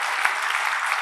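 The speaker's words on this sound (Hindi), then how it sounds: "तालियां बजा दीजिए इन लोगों के लिए।" Seminar audience in Jaipur clapping steadily for guests at a free success coaching program, a dense even patter of many hands without voices.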